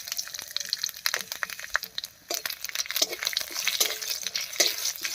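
Dried chillies and panch phoron crackle and sizzle in hot mustard oil, with sharp spluttering pops and stirring scrapes in a busy, close burst of frying.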